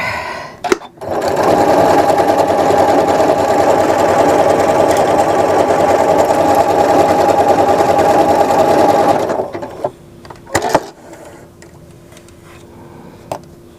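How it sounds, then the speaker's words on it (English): A sewing machine works decorative embroidery stitches with an embroidery needle and regular thread, running steadily and loudly up close for several seconds before stopping, followed by a few clicks and clunks. "I'm just using a 7511 embroidery blue needle and regular sewing thread to do the stitching"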